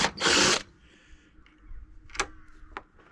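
A short, loud whirring burst of a power drill with a 3.5mm bit going through a panel, then quieter mechanical clicks and faint ticking sounds in a quiet room.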